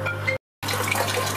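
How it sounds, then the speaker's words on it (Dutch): A garden tap running gently as it fills a newly built backyard pond, a steady broadband water hiss with a low constant hum, briefly cut to silence partway through before resuming. "Kijk, ik laat de kraan zachtjes lopen."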